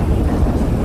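Rumbling thunder in a stormy GTA 5 roleplay scene, a low continuous roll mixed with wind and rain noise, loud and steady throughout the short moment.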